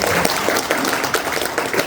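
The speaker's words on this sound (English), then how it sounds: "So, ladies and gentlemen, give me a hand of applause for Mr. Brian McDonald." Audience applause for Brian McDonald at a Hmong Committee of 100 event, a dense, steady wash of many hands clapping that fills the whole moment with no talk over it.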